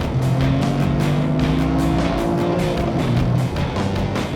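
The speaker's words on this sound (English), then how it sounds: "Wow, this Subaru is just a lot faster than that Corolla." A Subaru WRX and a Toyota GR Corolla drag racing, with loud close engine roar and rising revving tones through the gears, continuous and without talk.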